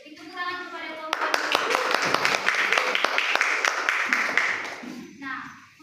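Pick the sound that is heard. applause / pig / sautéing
applause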